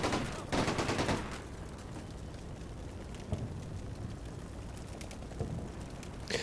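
Dense bursts of gunfire and distant explosions in the video game Combat Mission Shock Force, a steady rattling of shots with occasional heavier impacts over a constant battle din.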